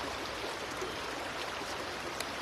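A river flows in a steady, even rush of broadband water noise, continuous and moderately faint, with no voices over it.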